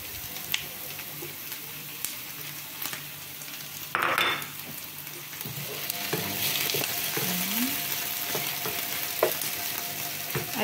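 Chicken wings for adobo sizzle and fry in a pan, the hiss steady and moderately quiet, with a brief burst of stirring and a few light clinks of a utensil against the pan.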